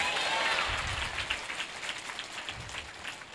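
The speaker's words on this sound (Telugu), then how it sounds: "నమ్మిన వారు గట్టిగా చప్పట్లు కొట్టి హల్లెలూయా చెప్పండి." A church congregation at a live Guntur prayer service claps, a dense burst of many hands that swells briefly and then thins into scattered, softer claps.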